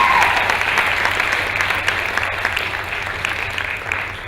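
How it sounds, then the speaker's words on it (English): An audience at a science festival poetry performance in Dubai applauds steadily, a dense, loud clapping that holds throughout and fades slightly toward the end. "a round of applause for our sponsors and Miss Anneka Reece"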